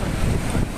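A violent gale blasts across Hehuan Mountain in Taiwan during a record storm, a loud, close roar of wind buffeting the microphone in a short rough burst with no voices.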